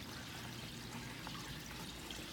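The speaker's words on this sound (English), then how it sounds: "You can see the water comes up through that backside over there." Water wells up and flows through a koi pond in winter, a continuous soft rushing and trickling that stays faint and even throughout, with no voices.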